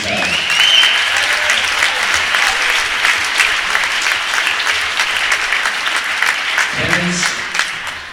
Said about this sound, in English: Let's give a warm round of applause to Lexi Butel.